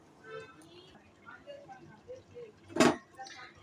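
A metal lid set on a cooking pot of dal, one short, bright clank standing out after soft background talk in a home kitchen.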